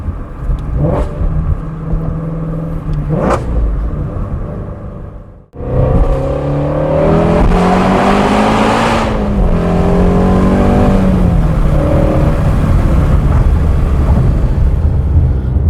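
A Shelby GT350R engine revs hard and accelerates, a loud, close exhaust climbing through the gears after two short blips and a brief lull, droning on strongly with no talk.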